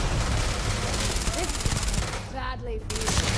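Weapon fire in the Starfield space game, including a rocket launcher, keeps up a dense, continuous barrage of shots and booms for the whole stretch, with a brief voice partway through.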